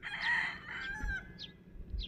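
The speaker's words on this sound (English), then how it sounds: "the roosters are lovely, but not when you're trying to sleep" A rooster crows nearby in a quiet early-morning setting in Malapascua, Philippines, one drawn-out cock-a-doodle-doo followed by fainter distant crows and soft clucks.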